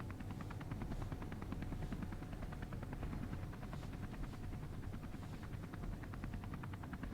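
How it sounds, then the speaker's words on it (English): A helicopter flying in the video game Space Engineers gives a steady, loud rotor thump with fast regular chopping over a constant broadband engine roar, continuous throughout with no talk. "This is a cool helicopter."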